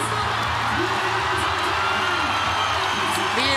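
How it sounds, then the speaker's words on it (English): Arena crowd at Kudos Bank Arena urging on an athlete at the 2018 Pacific Regional women's event, a loud sustained roar of cheers and whoops under a commentator's voice. "The entire crowd here at Kudos Bank Arena urging Cara on."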